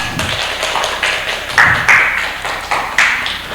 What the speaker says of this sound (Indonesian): Silakan berikan tepuk tangannya